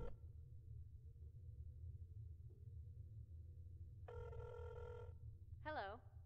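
A telephone rings in the video game INFRA: a single steady electronic ring burst over low ambient game hum, followed by a brief swooping tone.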